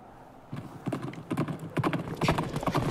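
Horse hooves clip-clop in Hyrule Warriors, starting after a brief quiet moment and becoming a quick, steady run of crisp, close hoofbeats that grow slightly louder, with no speech.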